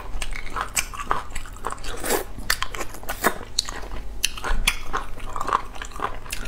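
Close, crisp biting and crunchy chewing of food at a Chinese mukbang meal with spicy enoki and squid sticky rice, a steady run of sharp bites and wet mastication with no talking.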